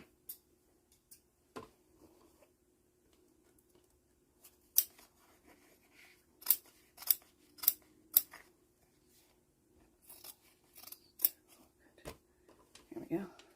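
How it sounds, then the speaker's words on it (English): Scissors snipping through fabric around a stitched box on a quilted pocket, a series of sharp close cuts in irregular bursts with quiet pauses between. "But let me get my scissors."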